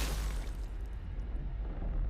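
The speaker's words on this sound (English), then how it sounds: "Explosions are going off, people are dying" Explosions going off in the video game Clair Obscur: Expedition 33, a dense, continuous low rumble of blasts with no clear gaps, loud and sustained throughout, with no voices.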